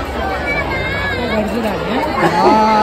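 Dense crowd chatter at a Datta Jayanti temple fair: many overlapping voices form a steady, close babble, with a few nearer voices standing out and the hubbub swelling slightly toward the end.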